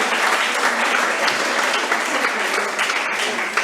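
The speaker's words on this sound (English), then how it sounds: "you can go ahead and applaud them as they come up" Audience applause at a school board meeting, a dense, steady wash of clapping from a roomful of people, loud and continuous throughout.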